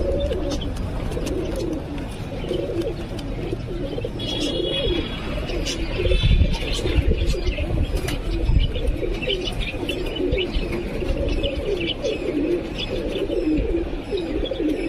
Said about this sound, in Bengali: এই যে আমার বাড়ির সবকটা নর পায়রা।